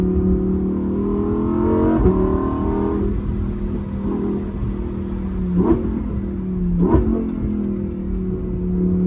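A Lamborghini engine pulls hard while driving, a loud close roar that climbs in pitch, with sharp gear-shift breaks and fresh surges of acceleration.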